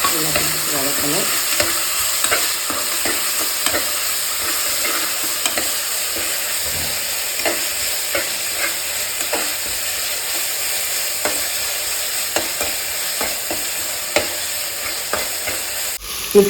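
Onion, ginger garlic paste, green chilli and chopped tomato sizzle in a pan for millet biryani, with steady frying hiss and repeated scraping stirs throughout, no voices.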